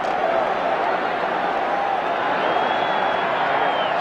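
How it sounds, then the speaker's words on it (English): Football stadium crowd at the 1985 NFC Championship between the Rams and Bears, a dense steady roar of many voices with faint cheering and clapping mixed in, loud and continuous throughout. "Everybody in this crowd just roaring."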